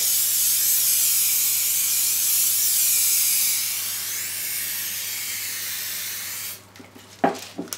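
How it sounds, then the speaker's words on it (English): A steady hiss of oil spray greasing a cake baking tray lasts several seconds, then tapers off, followed by a few light clatters. "Now grease it nicely with the help of a oil spray."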